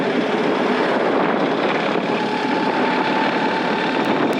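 Strong headwind blasting a rider on a BMW R1300GS Adventure with a small windscreen: loud, constant broadband roar and buffeting throughout, with no pauses.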